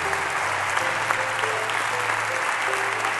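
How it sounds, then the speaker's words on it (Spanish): Warm applause from the audience at the opening ceremony of Congreso Futuro 2019, a dense steady wash of clapping throughout this short stretch. "un aplauso para cada uno de los que conforman el Congreso Futuro"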